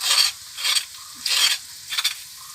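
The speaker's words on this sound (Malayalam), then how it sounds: "ഇത് എണ്ണ തെളിയുന്നത് വരെ നമ്മളിത് അടുപ്പിലിട്ട് ഇളക്കണം." A spoon scrapes and stirs chili, coriander and turmeric paste frying in coconut oil for a fish curry: four close, rhythmic sweeps with a faint sizzle between them.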